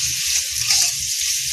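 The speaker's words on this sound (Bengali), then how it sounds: "একটু নাড়বো।" Semolina pulao frying in a pan, with sugar just added and stirred, gives a steady bright sizzle. Soft scraping strokes from the stirring sit low beneath it, and there is no voice over the sizzle.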